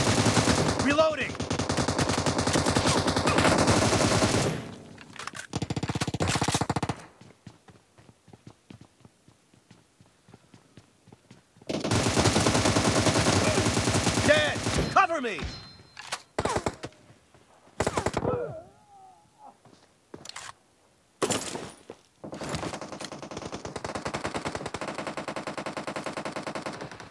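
Loud sustained bursts of M762 assault rifle fire in a team deathmatch video game match, broken by short pauses and quieter stretches with scattered single shots and clatter.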